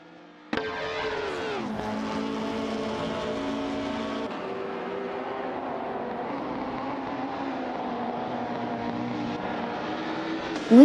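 Race car engines in a racing video game hold a steady high drone down the straight, loud and close, with pitch shifting as gears change and a sharp burst at the end, no talking.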